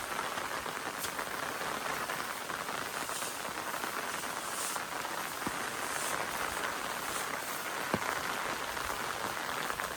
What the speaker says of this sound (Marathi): पावसानं लय जोर केला, सकाळपासून जा पाऊस आज भरपूर हा.